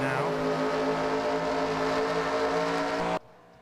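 Race cars roar in a video game oval race at Michigan International Speedway, several engines blending into a loud continuous drone with rising pitch, steady for about three seconds before cutting off abruptly.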